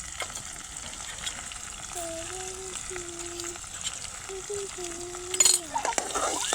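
Green chillies fry in hot oil as the tempering for kadhi, giving a steady soft sizzle beneath a voice, followed near the end by a burst of clinks and louder spitting as more goes into the pan.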